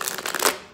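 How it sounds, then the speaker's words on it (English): A deck of tarot cards is shuffled by hand close up, a quick riffle of rapid papery flutters building to a brief snap, then fading, with no talk. "I'm going to go ahead and shuffle this one more time"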